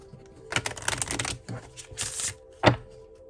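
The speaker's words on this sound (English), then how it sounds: "we're going to shuffle it and consider the question" A mini tarot deck is shuffled by hand in a few quick bursts of riffling, papery flutter, close and fairly quiet, ending with a sharp tap of the cards squared together.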